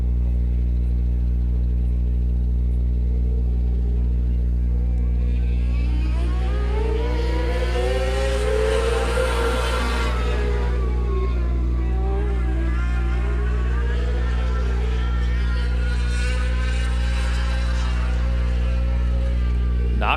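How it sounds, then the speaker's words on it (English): Micro sprint race cars circle a speedway during a late heat race, their engines a steady droning roar that swells as the pack sweeps past and fades again, with a commentator talking over the noise. "So just 2 laps to go on this final heat race in the micro sprints"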